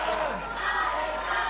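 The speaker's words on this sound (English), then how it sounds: "the Morecambe crowd trying to get Alexander Gray back into this" Wrestling crowd in Morecambe at a pro wrestling show, a steady mass of cheering and shouting voices filling the hall, loud and continuous without a break.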